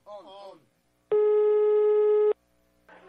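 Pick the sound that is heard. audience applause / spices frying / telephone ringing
telephone ringing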